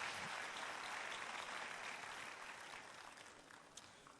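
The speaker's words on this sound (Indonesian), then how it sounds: "Beri tepuk tangan yang meriah buat Tuhan." A church congregation gives loud applause in praise, a broad wash of many hands clapping at a distance, steady and then slowly tapering off.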